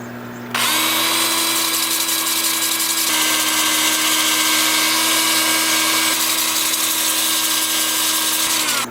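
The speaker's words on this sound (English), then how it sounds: "we'll start sanding" A power sander works a spalted maple deep bowl on a wood lathe, starting abruptly with a steady high whine and whirr that runs continuously at close range with only slight shifts in pitch.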